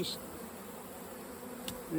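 Honey bees swarm inside a strong mini nuc hive being readied for almond pollination, giving a dense, steady buzzing drone that carries close and unbroken throughout.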